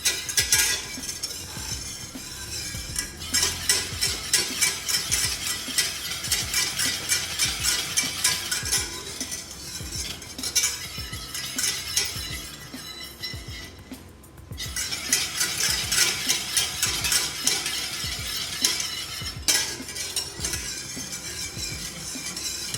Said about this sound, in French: je vais mélanger tout du long et porter à une bonne petite ébullition